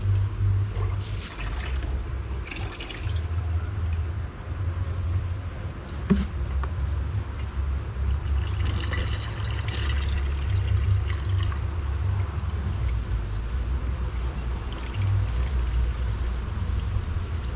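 Liquid feed is sprinkled over the tops of beehive frames in Jamaica after the rainy season, a steady soft splashing and trickling over a low background rumble, with no talking.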